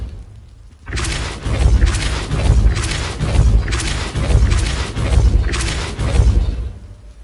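Depulso spell from Hogwarts Legacy cast over and over, a series of heavy booming thuds and crashing blasts about every half second to second, loud and close, no talk.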